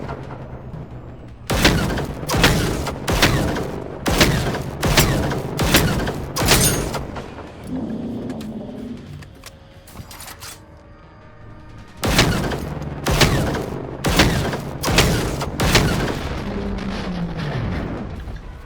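Heavy gunfire in Generation Zero, a string of loud, booming shots at a steady rhythm, a quieter gap with mechanical clatter, then another run of powerful regularly spaced shots.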